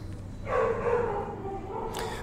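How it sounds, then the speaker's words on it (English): A dog gives a short, drawn-out bark or whining yowl at moderate distance, a single vocal call lasting about a second with faint room noise around it. "They brought one of their dogs to meet Lucy, so we'll see how that goes"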